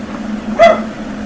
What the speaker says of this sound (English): God damn it, dog.